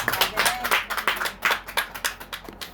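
A church congregation claps in praise to God during a sermon, quick rhythmic handclaps close by, loud and fairly uneven, with a faint voice underneath.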